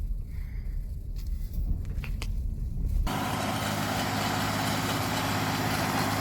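A tractor trenching a field rumbles steadily, a low heavy engine drone that turns into a loud broadband roar about halfway through and holds constant to the end.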